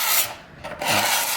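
A Roarockit Edge scraper drawn along a wooden edge, giving two rough, raspy scraping strokes with a short pause between them, close and fairly loud.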